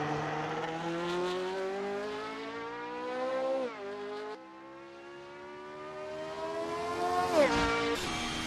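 A Formula 1 car in the racing game Assetto Corsa screams through its gears at high revs. Two sharp drops in pitch mark the upshifts, and a final rev rise and fall follows. No one speaks.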